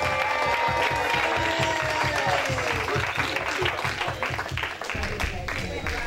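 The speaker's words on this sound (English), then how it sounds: "Give them a rousing round of applause" Audience applause for two civil rights mentors, Taylor Patterson and Kevin Robinson, at a gathering: a steady wash of clapping with strong rhythmic hand claps, voices and talk mixed in throughout.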